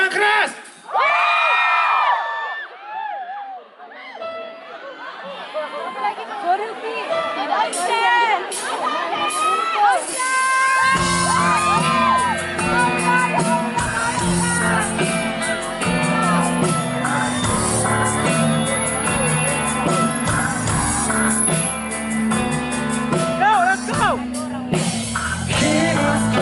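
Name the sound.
concert crowd applauding and cheering for the drummer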